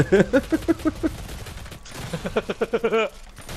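Video game gunfire in Doom multiplayer on PS4, rapid bursts of repeated shots in two clusters with a brief lull between, close and loud.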